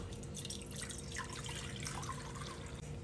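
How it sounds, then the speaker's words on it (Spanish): Water being poured into a pot on high heat to make choux pastry dough, giving a steady splashing, trickling pour that runs close and alone for about three seconds. "A fuego alto vamos a agregar el agua"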